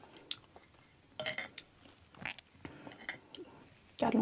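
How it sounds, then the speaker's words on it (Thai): Close, crisp crunching bites and chewing of red currants, irregular bursts of crackle with quiet pauses between, ending in a louder crunch. "กัดลงไปมันจะเป็นกรุบกรุบกรุบ"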